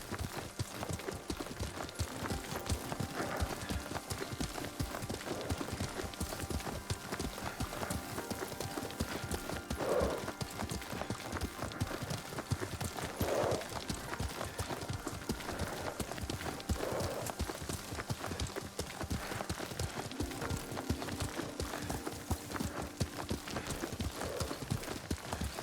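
Rhythmic hoofbeats of a horse being ridden in Ghost of Tsushima, a steady galloping clip-clop that continues close and even throughout, with brief faint snorts.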